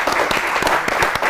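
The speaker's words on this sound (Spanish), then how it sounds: "Me parece que se merece un aplauso" Brief, close applause from a small audience after a talk on leadership in medicine, a handful of distinct hand claps in an irregular rhythm.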